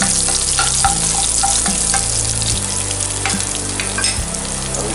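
Thinly chopped ginger and garlic fry in a hot pan for a chana dal and cabbage sabzi, with steady loud sizzling and occasional scraping stirs, no voices.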